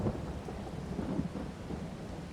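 Rain and thunder in Farming Simulator 22, a low rolling thunder rumble over steady rainfall, moderate and continuous with no voices.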